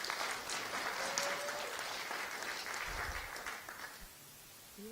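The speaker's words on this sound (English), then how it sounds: "Applause for that as well" Scattered clapping from a small group, fairly quiet, tapering off near the end with a brief low thump.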